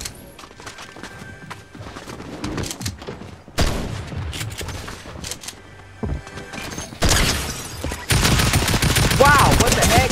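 Video game gunfire, including shotgun blasts, bursts out in several loud, abrupt volleys separated by brief lulls, close and harsh, with a steady in-game background beneath.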